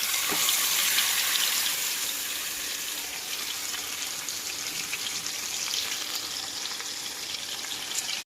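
Grated carrots sautéing in three to four spoons of hot ghee for gajar halwa give a steady, dense sizzle and crackle that runs close and even throughout, with no voices.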